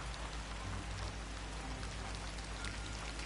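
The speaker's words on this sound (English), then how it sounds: "And it's raining." Rain falls steadily in the Yonder Cloud Catcher Chronicles game, an even dense patter of drops on the ground with no breaks, alone and at moderate volume.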